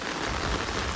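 Heavy rain pours down steadily in a dense, even hiss during a fishing trip, loud and continuous with no voices.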